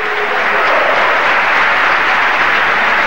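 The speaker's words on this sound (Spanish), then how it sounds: "Y vaya ovación." A stadium crowd roars in a steady, dense ovation for a substituted player at a Sporting Gijón tribute friendly, loud and continuous throughout.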